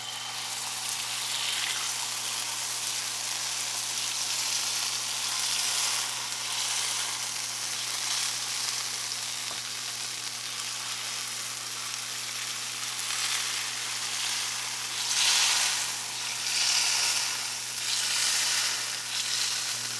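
Takoyaki batter sizzles steadily in a hot takoyaki pan, a loud continuous frying hiss with small crackling bursts, close up and alone with no talk.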